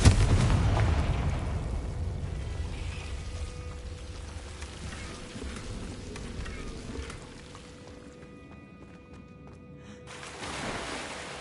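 A Confringo blasting spell explodes in Hogwarts Legacy on PS5, opening with a loud booming burst that decays into a long rumbling, crackling tail, fading quieter before a faint swell near the end.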